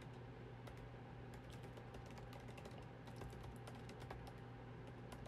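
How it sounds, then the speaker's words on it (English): Fingers type on a computer keyboard, a steady patter of quick, close key clicks over a low constant hum, with no one talking. "And I'm typing it right here."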